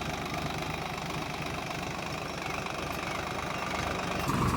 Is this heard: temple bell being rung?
no